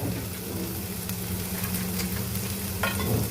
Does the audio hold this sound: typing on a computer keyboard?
no